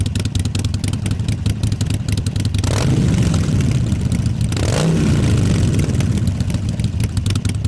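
Harley-Davidson 45-degree V-twin motorcycle engine running with a steady, loud rumble, swelling twice into stronger revving bursts before settling back to a throbbing idle-like drone.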